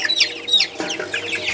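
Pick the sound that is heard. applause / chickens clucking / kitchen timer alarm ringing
chickens clucking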